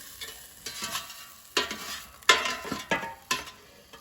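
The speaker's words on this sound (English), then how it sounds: "And we're gonna flip the pork over." Pork tenderloin sizzles in an air fryer basket as it is turned over, with soft frying crackle under several scraping, clattering handling sounds, close and fairly quiet.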